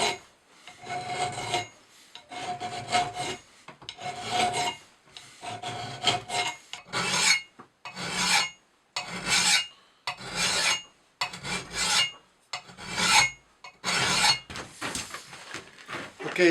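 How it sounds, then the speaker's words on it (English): Hand file rasping along the edge of a double bit axe, a steady run of rhythmic back-and-forth strokes with brief pauses between them, close and fairly loud. "start filing the edge back down again to a taper"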